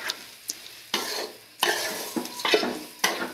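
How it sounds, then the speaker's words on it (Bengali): Soaked rice for chicken biryani is fried and stirred in a pan, giving a close, steady sizzle broken by several scraping stirs of the spoon against the pan, with no voices. "আপনারা চাল ভালো করে ভেজে নেবেন।"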